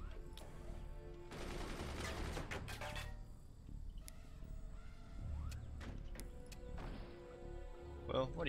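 A gunner firing in the video game Forts, rapid automatic bursts rattling in clusters with mechanical clanks and thuds between them, while people talk over the shooting throughout.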